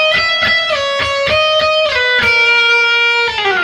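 Les Paul electric guitar playing a sustained, singing lead phrase from a solo, a run of clear picked notes with bends and slides, loud and close with no voices over it.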